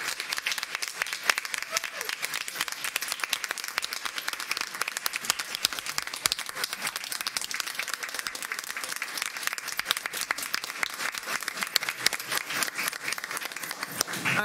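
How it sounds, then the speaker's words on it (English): A large audience at a school board of education meeting applauds a boys basketball coach of the year, with dense sustained clapping filling the room throughout before it tapers at the very end. "Let's give him a round of applause."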